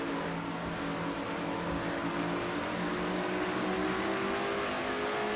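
Race car engines in a sim racing game, a steady loud drone through turns three and four, with a gradually rising engine pitch and no voices.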